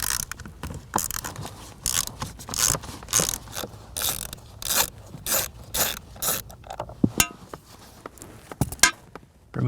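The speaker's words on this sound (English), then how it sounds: "Using a T25 bit, we're going to remove the 3 screws." A T25 bit backs out three screws from the HVAC blower motor assembly of a 2008–2015 Scion xB, a close, repeated ratcheting clatter with sharp clicks and scrapes throughout.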